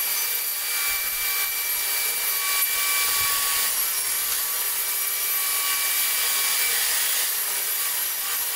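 Plywood panels being cut to width for a hanging lamp, a steady continuous sawing rasp with a bright high-pitched whine running throughout at even loudness, no voices.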